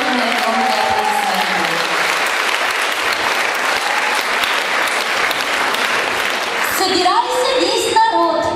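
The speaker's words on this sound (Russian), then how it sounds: "ваша крупная громкая аплодисмента." Loud, sustained applause from a concert audience for a folk theatre's variety dance show, dense and steady clapping that fills the room and thins near the end as other sounds come in.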